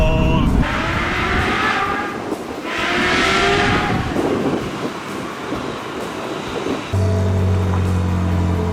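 Car fitted with a Capristo exhaust, a loud, steady roar with rising and falling broadband surges, close by and with no talk, then settling into a lower drone near the end.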